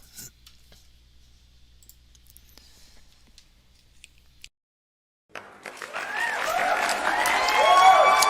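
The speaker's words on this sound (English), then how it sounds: "Thank you kindly for the applause" After a few quiet seconds, applause and a cheering crowd swell up and grow louder toward the end, at a livestreamed magic show.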